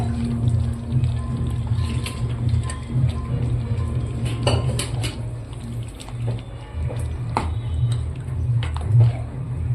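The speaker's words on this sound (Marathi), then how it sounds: "आपलं हे वाटणाचं पाणी मिक्सरचं भांडं धुवून ते पाणी याच्यात घालायचं" Water from rinsing a mixer jar of ground masala is poured into a homestyle village chicken masala curry, with clinks of metal pots and utensils and a steady low hum throughout.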